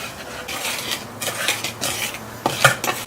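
Dry pancake batter ingredients (sugar, baking powder, baking soda) being mixed in a bowl, a close series of scraping, clinking utensil strokes against the bowl in an uneven rhythm.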